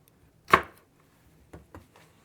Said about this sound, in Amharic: እቺ ቃሪያ ናት። ቀጫጭን ነው። በክቡ ነው የምቆርጠው።